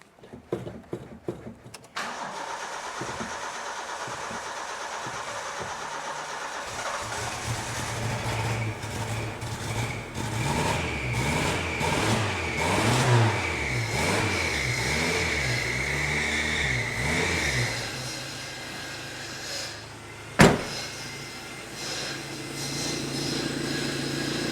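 A Daihatsu car engine cranks with a rapid stutter, catches, then idles and rises into rising and falling revs as the pedal is pressed, with a sharp clank near the end, heard in a workshop.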